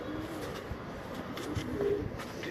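Breeder pigeons give low, soft coos in short repeated bursts over a steady background hum. The birds sound faint and somewhat distant, with no talking.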